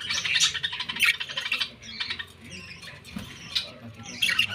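A pet bird at its nesting pot calls in repeated harsh squawks and chirps, loud and close, in short bursts with brief pauses between them.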